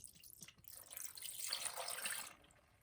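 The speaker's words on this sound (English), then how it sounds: "And then we are going to add the cup" Red wine pours into a crock pot in a short, soft splashing stream that builds and then tapers off, close and fairly quiet.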